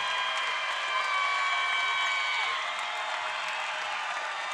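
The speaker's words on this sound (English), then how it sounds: "Listen to this crowd." A basketball arena crowd at a women's NIT quarterfinal cheers and applauds continuously, a dense, loud wash of clapping and shouting that holds steady without pause.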